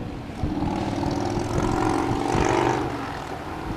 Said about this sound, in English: Okay, that was like a motorcycle.